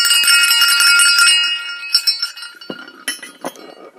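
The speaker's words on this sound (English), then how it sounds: "This is a 50 millimeter bell." A chromed 50 millimeter musical bell is rung loudly up close, a bright shimmering ring that sustains for over a second before fading, followed by a few lighter clinks and taps.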